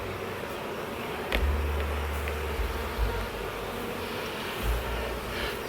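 Honey bees buzz around an open beehive in a steady, close hum, with a few louder low passes as individual bees fly near.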